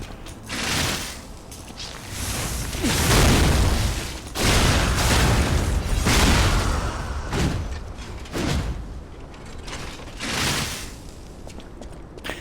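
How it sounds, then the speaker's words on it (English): Critical attacks in Lies of Pinocchio set off repeated explosions: a series of loud, rough booming bursts mixed with clanking, mechanical combat noise, recurring every second or two. "Did the explosion trigger each hit for the fucking critical attack?"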